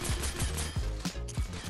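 Rapid gunfire in Fortnite, a quick string of loud punchy shots with an uneven rhythm, roughly six or seven bursts close together with no talking.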